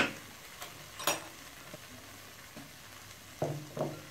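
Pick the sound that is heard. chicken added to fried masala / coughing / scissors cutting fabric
chicken added to fried masala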